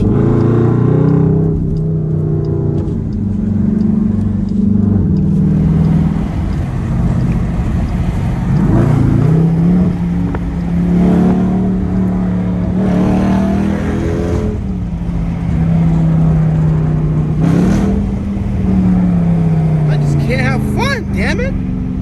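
A Dodge Durango SRT with a straight pipe exhaust pulls hard from inside the cabin, a loud droning engine note rising and falling through repeated accelerations, with people talking throughout.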